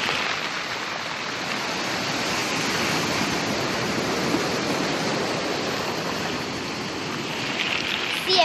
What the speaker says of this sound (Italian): qua il mare